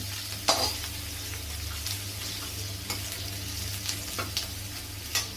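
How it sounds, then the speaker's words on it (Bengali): Vegetables sizzle in a pan with a steady hiss, punctuated by occasional scrapes and stirring clatters; no talking. "একটু ভাজা হোক"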